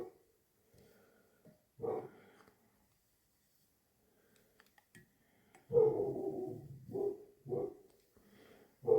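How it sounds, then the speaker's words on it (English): Pet dogs bark indoors: one short bark early, then after a quiet stretch a loud run of several close, sharp barks in quick succession. "my dogs are barking"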